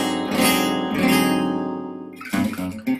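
A guitar rings out a dark, dissonant dominant-chord voicing in gypsy jazz from a guitar lesson: two strummed chords left to sustain, then a quicker, clipped pair of chords at the end, close and clear.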